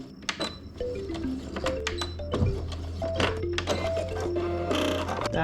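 A sewing machine stitches through a visor, giving a steady mechanical whir with quick needle clatter and a few brief pauses and restarts, close and fairly loud.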